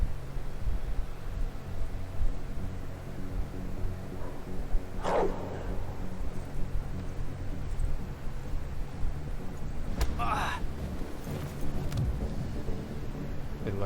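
In the video game Werewolf: The Apocalypse – Earthblood, a dog barks twice, a few seconds apart, as short sharp bursts over a constant low, rumbling ambient background.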